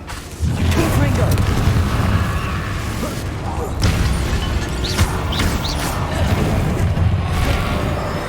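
A Confringo fire spell explodes in Hogwarts Legacy on PS5, a loud, sustained booming rumble with several sharp hits layered over continuous game noise.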